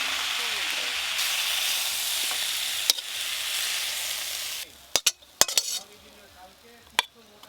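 Food fries in hot mustard oil in a pan, a loud even sizzle that fades after a few seconds, followed by sharp metallic clanks of utensils against the pot.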